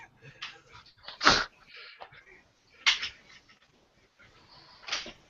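A small household dog barks close by in a room, giving three sharp, separate yaps spaced over a few seconds, with quiet stretches in between and faint background noise.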